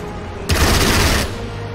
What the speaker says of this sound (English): Strafing.